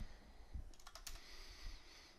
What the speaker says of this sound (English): And we're just gonna type in what should be the public IP address